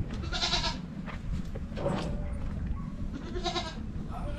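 Goats on a farm in California bleat in two loud, quavering calls about three seconds apart, close by over a steady rustling background with no talk.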